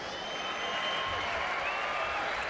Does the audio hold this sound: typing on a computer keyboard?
no